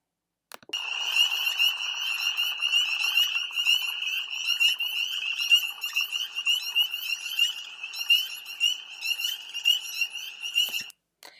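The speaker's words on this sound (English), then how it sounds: "you're not usually going to hear just one frog by itself" A dense chorus of frogs trilling continuously at a high pitch, loud and sustained, with pulsing overlapping calls filling the night air of spring woods.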